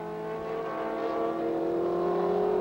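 A Formula Atlantic race car with a 1600cc 4-valve VDA engine producing 230 horsepower holds a steady, loud engine drone at high revs, its pitch climbing slightly throughout.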